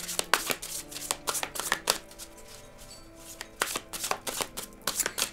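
Tarot cards shuffled by hand in quick riffling bursts, close and crisp, with soft papery snaps and brief pauses between flurries.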